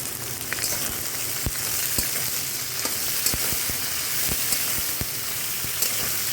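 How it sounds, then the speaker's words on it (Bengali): Soaked chickpeas fry with punarnava greens in a pan, giving a continuous soft sizzle like light rain, with scattered clicks of a spatula stirring. "এটাকে ভালো করে ভেজে নিতে হবে"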